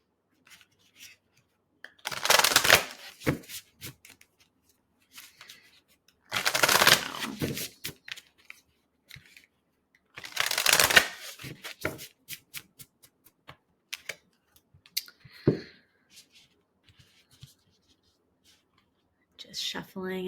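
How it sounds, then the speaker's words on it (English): Three loud bursts of riffling card shuffles, each a couple of seconds long, followed by quiet taps and soft slaps of cards being laid out on a surface at close range. "Just shuffling and laying the cards out."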